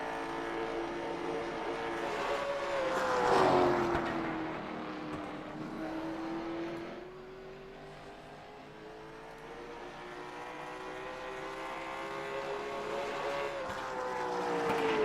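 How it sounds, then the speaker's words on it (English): A pavement late model race car laps USA Speedway with few other cars out, its engine holding a steady, droning tone that rises as it nears, dips as it pulls away, then builds again. "One of only a couple of cars out on the track right now."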